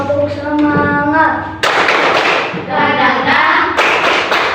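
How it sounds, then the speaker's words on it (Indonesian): Group rhythmic spirit clapping at a school supervision session, with singing voices first, then loud bursts of many hands clapping and thumping together, alternating with chanting. "Tepuk semangat."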